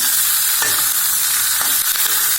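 Steady sizzling from tomatoes and other vegetables sautéing in a pan for tomato chutney, with a few soft stirring clatters breaking through the constant hiss.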